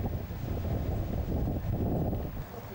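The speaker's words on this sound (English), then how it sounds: "Cloudy skies and rather cold and windy." Cold, blustery wind buffets an outdoor grassy field at a Goldwing motorcycle owners' rally in Kelso on a cloudy day, a constant low rushing roar with gusty swells and no speech.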